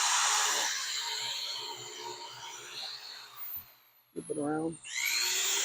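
Cabinet glass edges being sanded smooth with a power tool, a steady loud whir running throughout, briefly cut off near the end with a clunk of handling before resuming, a voice speaking over it.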